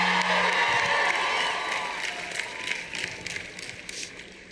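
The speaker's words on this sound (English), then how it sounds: "So give yourselves a big round of applause." Outdoor crowd at a climate strike in Denver clapping and cheering loudly, with scattered whoops, the burst fading gradually over a few seconds.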